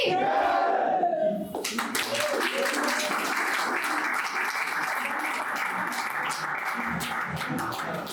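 Loud, sustained applause and clapping from an audience after a musical performance at a Republic Day celebration, a dense continuous roar of hands with crowd noise that starts abruptly and carries on steadily to the end.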